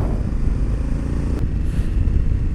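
A 2021 Honda Africa Twin motorcycle ridden at high speed on a race track, a loud steady engine rumble mixed with heavy wind roar from the rider's position, continuous with no talk.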